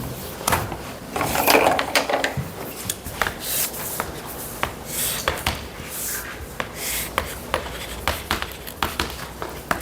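Marker or chalk scratching and tapping on a classroom board as a physics graph is drawn, short irregular strokes and knocks in quick succession, close and clear with no talking.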